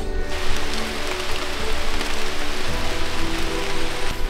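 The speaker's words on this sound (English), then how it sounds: "It's starting to rain." Steady rain falls on the Amazon rainforest in Colombia, a dense continuous patter of drops on leaves and surfaces with no voices, holding constant from start to finish.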